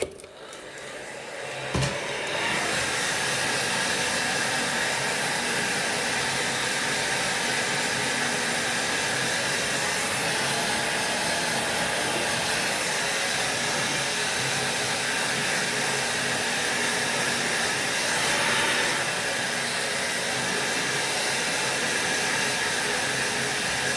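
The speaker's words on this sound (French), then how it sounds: "Il me reste juste encore à la sécher." A hair dryer blows steadily on a freshly cut fringe, a loud continuous whooshing hiss that switches on after a brief click and runs unbroken to the end.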